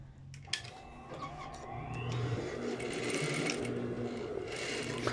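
Sewing machine running an edge seam along a shirt collar, starting with a few clicks and then settling into a steady close mechanical whir for several seconds.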